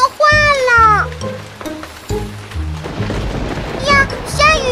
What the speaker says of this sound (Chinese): 呀，下雨了，大家快过来！